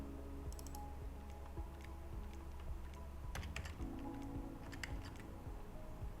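Random numbers are entered on a computer keyboard during accounting software data entry, heard as quiet, close, quick irregular key clicks in a continuous run with no speech.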